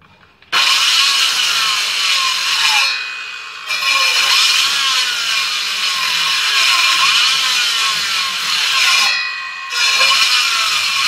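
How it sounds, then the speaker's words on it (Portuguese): Hand chiselling wood out of a roof timber joint, a hip rafter fitted onto the wall plate, gives steady scraping and cutting strokes in three long bursts separated by brief pauses, close and fairly loud with no talking. "Aqui ajuda muito na hora de tirar aqui de formão"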